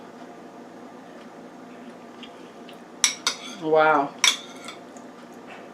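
A metal spoon clinks a few times against a pressure cooker pot of beef pot roast, a couple of sharp bright taps around a brief scraping rattle, close and fairly quiet, with a short spoken exclamation in between.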